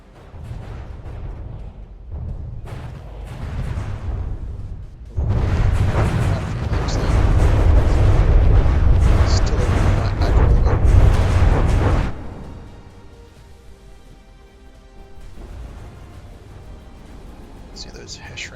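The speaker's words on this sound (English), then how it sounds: "And there goes that next huge missile barrage." A huge missile barrage strikes in the From the Depths naval combat game. Softer rumbles give way to a loud, sustained roar of overlapping blasts lasting several seconds, then the noise fades to a lower hum.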